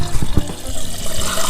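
Water rushes steadily through a newly installed ice maker line feeding a garage refrigerator with a filter, a continuous hiss and gurgle with a few soft knocks and no voices.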